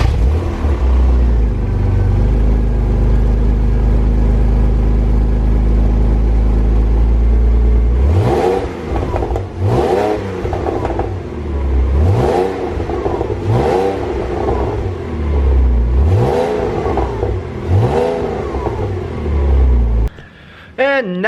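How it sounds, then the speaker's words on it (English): A Porsche Boxster engine cold-starts and idles with a deep, steady rumble, then is revved repeatedly in sharp bursts, each climbing and falling back, close and loud. "I'll treat you guys to a cold start"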